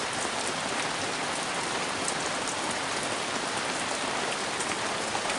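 Steady rain pours down, a dense even patter on surfaces that continues without pause and with no voices.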